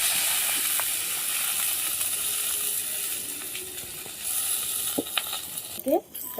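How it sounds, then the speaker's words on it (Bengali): Banana flower pressed onto a flat griddle with a little mustard oil gives a steady, soft sizzle throughout, with a few scraping clicks and a brief rattle near the end; no one talks. "সর্ষের তেল দিয়ে দেবো মাখিয়ে রাখা মোচাটাকে এর উপরে দিয়ে দেব"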